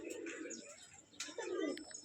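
A pigeon kept for sale, a male of a bicolored biscuit-and-white bird, coos in soft throaty bursts nearby, with a faint chirp or two in the background.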